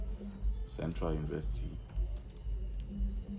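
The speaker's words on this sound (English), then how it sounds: "So I'll just type Central University." Someone types a search query into Wikipedia on a computer keyboard, producing quick, close key clicks in short bursts, with a brief voice passing partway through.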